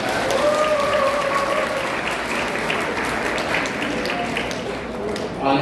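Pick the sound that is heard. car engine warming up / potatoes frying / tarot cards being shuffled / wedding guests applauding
wedding guests applauding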